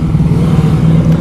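A 1987 Honda Magna motorcycle engine revs loud and close as the bike pulls away, a steady throaty drone with no talking.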